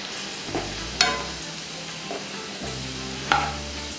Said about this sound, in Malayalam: അപ്പോൾ പെട്ടെന്ന് നമുക്ക് സവാള വറുത്ത് കിട്ടും